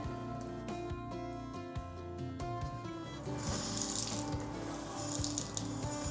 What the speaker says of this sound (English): And the water's coming back on through our home assistant and my voice.